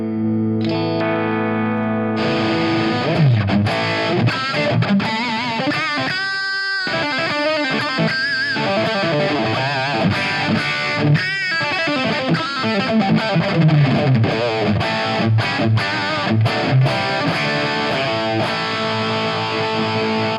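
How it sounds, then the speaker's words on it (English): Electric guitar played through a drive effect on a Fractal rig, a loud distorted tone with chords and single-note riffs, echo and chorus-like shimmer, ringing out alone for about twenty seconds with short pauses. "But I show you the sound of this drive."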